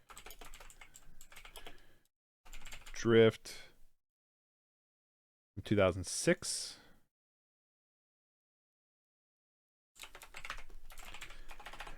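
Someone types on a computer keyboard in short bursts of quick, close key clicks, separated by silent gaps and brief spoken words.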